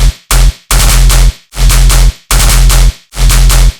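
A heavy gunshot-style bass with an added Serum sine-wave sub and soft clip distortion: six loud, booming hits in a steady rhythm, each a sharp, dense blast with a deep sustained low end, separated by brief silences.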